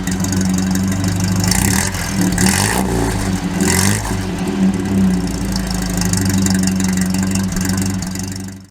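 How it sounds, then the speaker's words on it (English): A 1947 Humber 10 engine runs continuously up close, a steady mid-pitched hum with a couple of brief revs and squealing rises near the start, with no voices. "But let's get to the engine and the sound."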